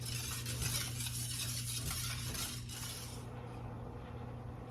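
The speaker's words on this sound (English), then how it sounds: "Now I'm supposed to stir it in completely until it dissolves" A spoon stirs pectin into a grape jelly mixture in a pot, giving soft scraping and light clinks against a steady low hum, faint and close, with no talking.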